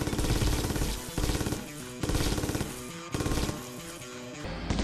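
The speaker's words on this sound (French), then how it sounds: "Une machine gun." Machine gun fire in a video game rattles in long, dense bursts with brief pauses between them. The shots are loud and close, with no talk over them.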